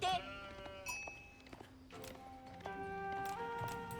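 Sheep bleat several times during an Age of Empires–style competitive match, over in-game sound effects and other unit noises, with a commentator talking alongside.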